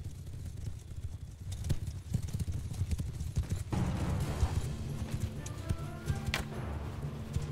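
Cavalry horses gallop in Mount & Blade II: Bannerlord, a dense rumble of hoofbeats that swells and thickens partway through, with no voices over it.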